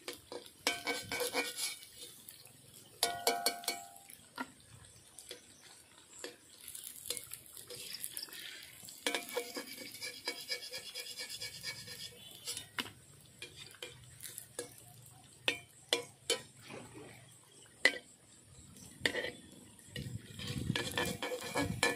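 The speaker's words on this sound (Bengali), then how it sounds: "এইভাবে আমি সব বিস্কুটগুলো ভেজে নেব।" Semolina toast biscuits fry quietly in a pan, a soft sizzle under repeated scraping and clinking of a utensil stirring against the metal.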